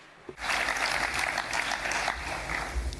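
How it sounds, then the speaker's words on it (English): Applause breaks out at a European political event on social progress, starting suddenly after a brief lull and holding as a dense, steady roar of clapping from a large audience. "So a round of applause for Mr. Viola."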